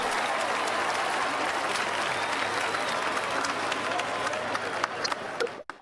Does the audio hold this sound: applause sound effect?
yes